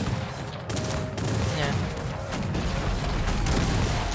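Dense musket volleys crackle and boom continuously in a Cossacks 3 multiplayer battle, a loud overlapping fusillade with faint voices underneath.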